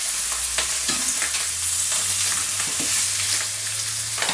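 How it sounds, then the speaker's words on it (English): Steady, loud sizzling of fish frying in a hot pan, a continuous crackling hiss with small pops throughout. "this fish is sizzling nicely."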